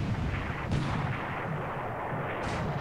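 Naval gunfire and shell impacts around a heavy cruiser in the War in the Pacific strategy game, a continuous rumbling barrage with two sharper bursts standing out, dense and loud throughout.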